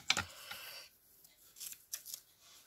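A few brief, close, crisp snips, like scissors cutting paper, with quiet gaps between them.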